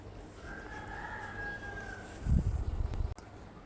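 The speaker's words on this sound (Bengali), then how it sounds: "এই দেখেন চীনা মুরগি" Chinese chickens call from somewhere nearby. A faint, drawn-out crowing note is heard, then a brief burst of low rumbling handling noise before it cuts off abruptly.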